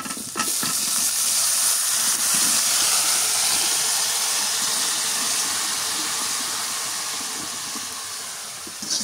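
Banana flower dropped into a hot pan for a village curry, giving a loud, steady steaming hiss that holds for several seconds and slowly eases toward the end, with no voices.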